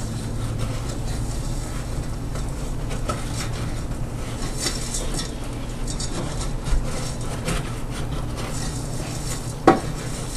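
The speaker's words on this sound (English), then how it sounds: "You don't want to cook it too high because it will burn it, and that's why we stir it constantly" Sugar and sesame seeds are stirred constantly in a pot for Somali sisin sweet, a steady low sizzle with soft scraping and occasional clinks of the utensil against the pot, ending with a sharper knock, no talking.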